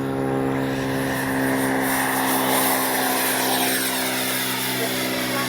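Arrows 64mm MiG-29 RC jet flying at high rates, a loud steady ducted-fan whine with a strong tonal hum, continuous and near, with no talking.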